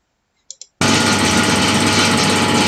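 A drill bores through a disc: two faint ticks, then the drill kicks in abruptly with a loud, dense, rattling whir that runs steadily to the end.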